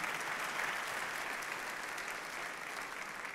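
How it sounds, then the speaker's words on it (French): Keynote audience at AWS Summit Paris breaks into sustained applause, a broad, even wash of many hands clapping in a large hall, heard alone without speech. "Merci de l'applaudir."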